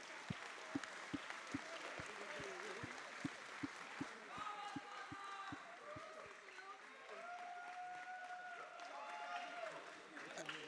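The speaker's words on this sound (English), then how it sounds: "Give them a round of applause." At the Arctic Gaming Experience 2022 esports grand final, a large audience applauds players and streamers. The applause is faint and continuous, with a regular thumping beat running through it.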